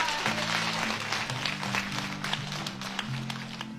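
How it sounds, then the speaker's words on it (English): A room of people gives a round of applause at a school community meeting, brisk clapping throughout while a sustained tonal hum or held notes run underneath. "Round of applause"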